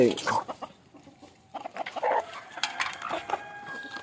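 Native chickens cluck in short bursts while pecking at bran at midday, a few close calls rising over a quieter background, with someone speaking briefly between them.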